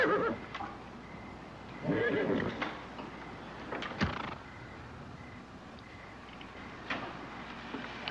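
A horse whinnies and nickers faintly outdoors, with a few soft neighs and scattered hoof clops against a quiet background.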